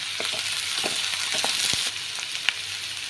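Green chillies and ginger-garlic paste fry in hot oil in a pan, a close, steady crackling sizzle broken by scattered pops and light stirring scrapes. No one speaks.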